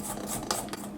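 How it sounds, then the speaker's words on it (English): A spatula scrapes the side of a bowl of vanilla buttermilk cupcake batter in a few soft, close rubbing strokes, brief and quiet. "I have to use a spatula to scrape the side here."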